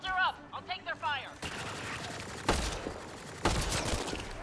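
Enemy gunfire rattles in dense, loud bursts during a Mass Effect Andromeda firefight, sustained automatic shots following a spoken line at the start.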